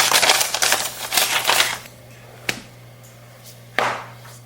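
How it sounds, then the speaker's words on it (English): Protective plastic film peeled off a new Huawei Mate X6 folding phone during unboxing: a loud, continuous crinkly rustle for about two seconds, then two short, sharp crackles, close and alone. "so let's remove this plastic"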